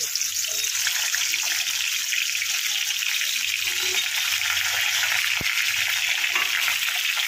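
Brinjal pieces fry in hot oil in a pan, giving a steady, loud hiss and crackle that runs unbroken throughout, with faint low clinks and background noise underneath.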